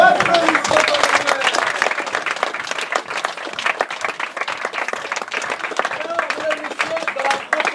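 An audience at a Paris improv comedy cabaret applauds in a steady, dense wash of clapping that holds at full strength throughout.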